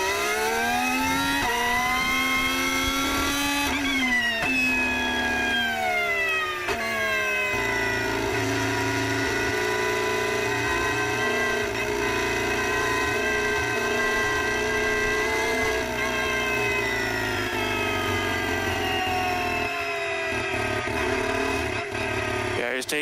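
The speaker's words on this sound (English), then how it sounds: "We'll count the burnouts that Lando did." Lando Norris's Formula 1 car revving hard during burnouts, a loud sustained high-pitched engine wail with rising and falling pitch, with commentators talking over it.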